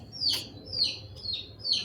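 Young chicks give a handful of high, thin chirps, about five spaced calls at close range, over a soft background murmur without clear speech.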